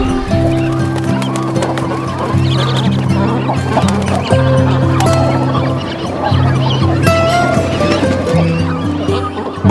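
Cormorant fledglings begging noisily as a parent returns with food, a dense, continuous chorus of raucous calls and squawks from many birds close by, with overlapping harsh cries throughout.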